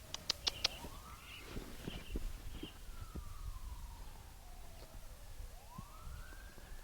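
Distant emergency vehicle sirens in a stormy outdoor setting: faint wailing tones slowly rise and fall across the clip, under wind, rustling and a few short sharp knocks, with no talking.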